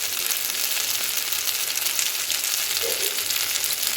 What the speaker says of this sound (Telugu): ఇట్లా చూడండి ఎంత మంచిగా ఫ్రై అవుతున్నాయండి